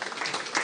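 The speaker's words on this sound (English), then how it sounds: "Give yourselves a round of applause" Brief burst of audience applause at a local election candidates' evening, a dense wash of clapping heard for under a second.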